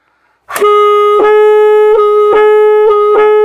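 A bright, reedy saxophone tone played with an overtone fingering sounds from silence, sustained and slightly sharp, articulated into about five repeated tongued notes at the same pitch.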